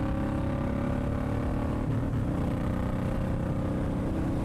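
Suzuki M109R motorcycle from 2007 fitted with an aftermarket exhaust, riding on a road in Mississippi, with a steady loud low engine rumble throughout.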